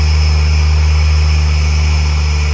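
A Toyota JZX100 engine idles loud and close as a steady, even rumble, with an idle air control valve problem being tested. The stall is not clearly heard within the short stretch.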